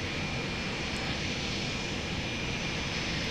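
In the Lock On flight sim, a jet engine spools up on the runway as the throttle advances, giving a steady, loud, broad roar and whine that holds evenly throughout.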